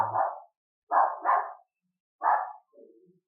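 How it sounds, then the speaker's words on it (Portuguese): A dog barks indoors in a series of four short, sharp barks, with a pause between each, clear and moderately close, with no voices. "o meu cachorro, o Léo, ele latia muito"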